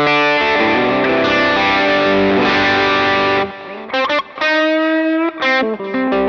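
An electric guitar plays through a Tubescreamer overdrive pedal, loud and close: a long, ringing driven chord, then short choppy overdriven stabs with brief gaps, with no voices.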